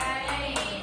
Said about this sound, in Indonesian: tepuk tangan buat Bu